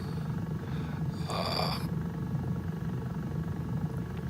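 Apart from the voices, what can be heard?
jet gyroplane engines and rotor in flight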